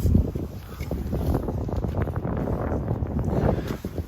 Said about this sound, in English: let me try to block the wind